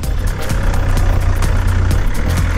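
A 2-litre Toyota diesel engine with manual transmission idles nearby with a low, steady rumble and rhythmic knocking clatter, no voices.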